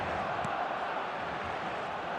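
Steady roar of a large stadium crowd in the eFootball video game, a dense constant wash of massed voices without distinct peaks.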